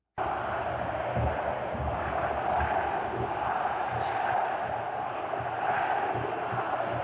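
Corinthians football fans roar in a stadium during a Copa do Brasil match at Atlético Paranaense's ground, a loud, continuous wall of crowd noise with cheering and chanting that never lets up.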